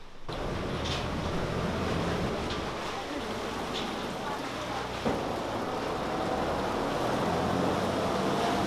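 A tour boat moves across the water in Bangkok, Thailand, with a steady wash of engine and splashing waves, plus wind noise and scattered background voices.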